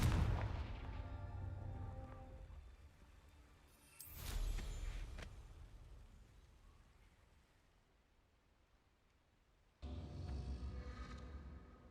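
Confringo spell blasts in the Hogwarts Legacy video game, three separate booming explosions with long rumbling decays, one at the start, one a few seconds later and a third near the end, loud with no talk.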